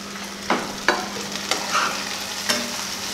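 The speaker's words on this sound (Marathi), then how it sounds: "लगेचच त्यात कांदा टाकायचा आहे." Onion and green chilli fry in hot oil with a steady soft sizzle, broken by a few distinct scraping stirs of a spoon in the pan, close and alone, while preparing green mutton.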